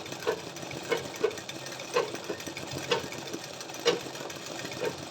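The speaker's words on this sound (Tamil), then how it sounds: "நம்மளோட பெடல் மிஷினே தான்" A pedal-operated domestic sewing machine stitches embroidery in quick, rhythmic bursts of needle clatter, close up, with short accented knocks roughly once a second and no talking.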